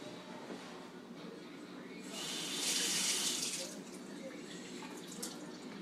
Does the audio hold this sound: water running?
yes